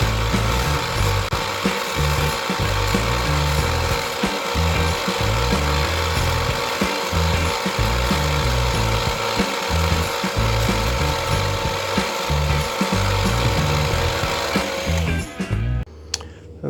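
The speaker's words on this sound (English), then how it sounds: "belt sander did a pretty good job of rounding those corners off" A belt sander grinds steadily against the corners of a white three-ply Stratocaster pickguard, a loud continuous rasping roar with rhythmic pulses as the piece is worked, alone with no talk, cutting off near the end.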